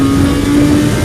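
Kawasaki ZX-7R motorcycle engine heard while riding, a loud, steady, close droning roar holding an even pitch for about a second with no voices.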